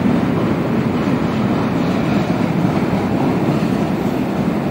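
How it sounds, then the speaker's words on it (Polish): Freight train rumbling steadily past nearby in a Moscow area, a continuous loud low roar of rolling wagons with faint clatter throughout, no voices. "A z tyłu jedzie za nami pociąg towarowy."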